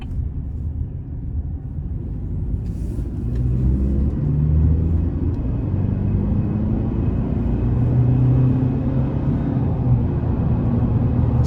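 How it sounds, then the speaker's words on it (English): A 2024 Chevrolet Silverado 1500 Custom Trail Boss with a turbo engine accelerates onto an interstate, a steady low rumbling drone from inside the cab that swells slightly as it pulls, with road noise throughout and no talk. "it gets up to speed with ease. And I love the turbo sound."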